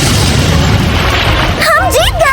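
A booming explosion from an attack in an anime fight scene, a loud sustained blast rumbling for over a second before giving way to a voice speaking.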